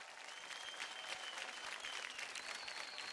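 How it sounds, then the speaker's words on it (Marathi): An audience on a televised dance competition show applauding, dense steady clapping of a crowd filling the whole stretch, fairly faint and distant, with no clear voices over it. "जोरदार टाळ्या होऊन जाऊ द्या"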